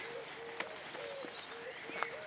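Birds call outdoors, repeating short, faint, cooing notes at a steady pace over a soft background hiss.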